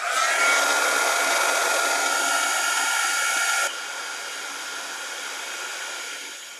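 A heat tool blows loudly and steadily while heat-setting embossing powder on shaker cards, its hot-air roar stepping down to a quieter setting partway through and trailing off at the end.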